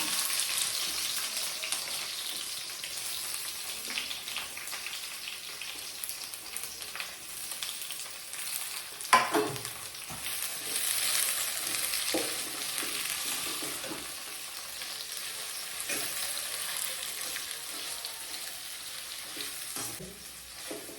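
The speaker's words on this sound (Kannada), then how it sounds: "ಗೋಲ್ಡನ್ ಬ್ರೌನ್ ಅಂತ ಏನು ಬೇಡ, ಸ್ವಲ್ಪ ಮೀಡಿಯಮ್ ಆಗಿ ಬೆಂದರೆ ಸಾಕು ಈರುಳ್ಳಿ" Onions sizzle and fry steadily in a pan while cooking for nati-style mutton chops, a continuous close crackle with a brief louder clatter midway and no talking.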